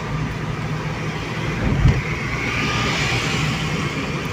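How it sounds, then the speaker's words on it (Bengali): Road traffic crosses Tala Bridge in Kolkata under light rain, a steady low rumble of passing vehicles with one nearer vehicle swelling briefly midway; no one speaks. "গাড়ি ঘোড়া চলছে"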